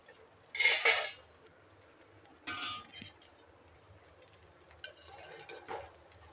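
A metal lid clanks onto a pan of cooking sweet coconut rice with two distinct clinks, followed by a few lighter rattles and taps of cookware nearby.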